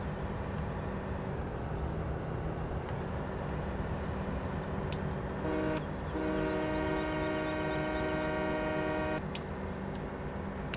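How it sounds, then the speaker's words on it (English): A video-game American locomotive horn in Farming Simulator 2017 blares with a steady harmonic tone for several seconds over a continuous rumbling engine drone, loud and close. "standard American horn"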